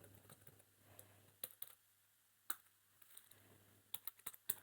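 Keys tapped on a computer keyboard while writing Java code, a quiet scatter of sharp clicks with bursts of several quick strokes and pauses between, close and alone over a faint steady hum.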